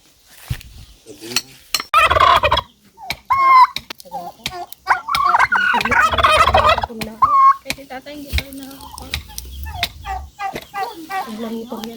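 Turkeys gobble loudly and repeatedly at close range on a rural farm, rapid warbling calls mixed with clucks from other fowl.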